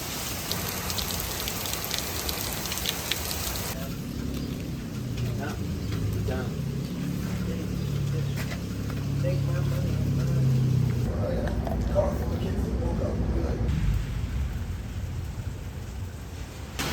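Summer rain keeps falling on the Appalachian Trail during a thru-hike, a dense, steady hiss of drops on surrounding foliage with a deeper rumble mixed in, while a voice talks over it partway through.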